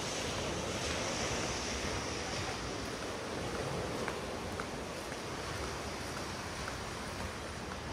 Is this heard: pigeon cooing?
no